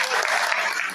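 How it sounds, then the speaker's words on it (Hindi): Audience applause for Dilawar Bhai at a mechanic training session in Mansehra, a brief steady burst of clapping from a gathered crowd. "दिलावर भाई के लिए तालियां।"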